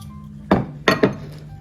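Cheddar cheese being mixed into roast loaded baked potatoes in a foil-lined pan, heard as three sharp utensil clinks close by, one alone and then a quick pair, with quiet room noise around them.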